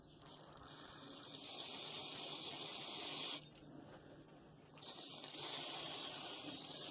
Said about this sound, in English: spray that out, get rid of that.